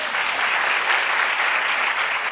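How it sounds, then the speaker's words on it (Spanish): A TV studio audience breaks into loud, dense applause, a continuous roar of many hands clapping at once that holds at an even level throughout, with no speech on top. "Un aplauso para Susana."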